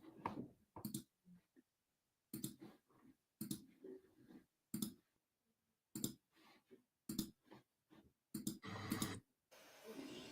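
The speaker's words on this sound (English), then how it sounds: "There's a lot of clicking." Computer mouse clicking in a series of separate, sharp bursts spaced by short silences, close to the microphone and moderately quiet over roughly ten seconds, with no talk between them.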